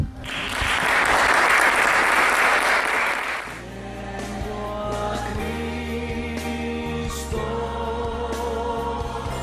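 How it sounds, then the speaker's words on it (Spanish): A church congregation breaks into loud, dense applause lasting a few seconds, then it fades out under sustained keyboard or organ chords and scattered voices as the music carries on. "Te invito a que te pongas de pie y que le volvamos a dar ese aplauso al Señor."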